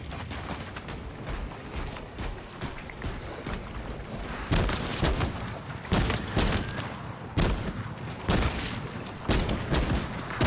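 Rapid gunfire bursts in the video game Space Marine 2 as enemies are shot, with dense volleys and booming impacts that grow louder and more frequent midway, no talk.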